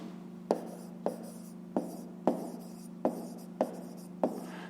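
A pen scratches out handwritten numbers on paper in short, regular strokes, about seven distinct taps and scrapes spaced roughly half a second apart, close and fairly quiet over a steady low hum.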